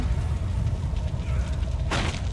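A unit explodes in a Warcraft III custom map: a short, loud burst near the end rises above a dense, continuous wash of game battle noise.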